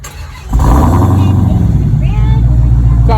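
A Dodge Hellcat with a cut muffler cold-starts: after a quiet half-second the engine catches with a loud, sudden burst, then settles into a deep, rumbling high idle, close and dominant, with voices nearby.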